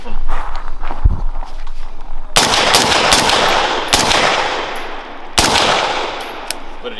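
Rifle shots, 5.56 and .30 caliber, ring out outdoors as a few sharp, loud cracks spaced a second or two apart, each trailing off in a long echoing decay.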